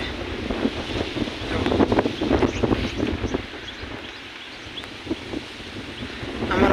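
Strong wind gusting across open village countryside in Gujarat, loud buffeting rumble against the microphone that swells, eases in the middle, then builds again, with no voices.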